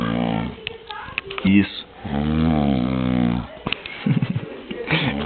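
Snoring on a farm: a long, rumbling, drawn-out snore rises up close between spoken remarks, with shorter snorting breaths before and after.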